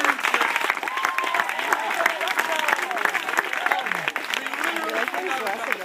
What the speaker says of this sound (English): one more huge round of applause to everyone who drove today